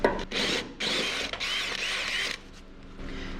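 A hole saw grinds through half-inch metal in short bursts, a harsh, close rasping whine that stops and starts several times with brief pauses between cuts.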